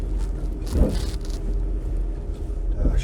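A stock Jeep Cherokee grinds back and forth up a snowy Oregon backcountry trail, a loud, close, low engine rumble with a couple of surging pushes and no speech.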